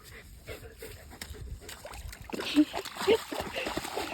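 A dog named Bubba splashes into water outdoors, a couple of brief sloshing splashes amid soft background voices and faint ambient noise.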